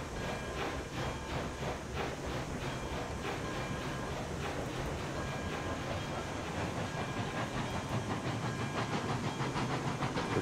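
A steam locomotive in the RailRoads Online game rolls steadily along the track, a continuous rumbling clatter with rhythmic wheel clicks and a hissing steam wash, loud and sustained throughout with no talk.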